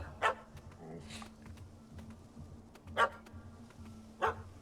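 Dog in The Witcher 3 video game giving three sharp, separate barks spaced roughly a second or more apart, fairly close, over a low ambient game background.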